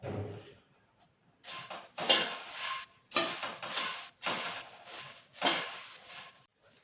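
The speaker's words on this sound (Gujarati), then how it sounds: "મમરા છે એને સતત આપણે આ રીતે હલાવતા રહેશું, જેથી મમરા છે તે તળીએ ચોંટી ન જાય." Puffed rice roasts in a pan while a spoon stirs it continuously, giving bursts of dry rustling and scraping in a repeated rhythm, close and moderately loud, with no voices.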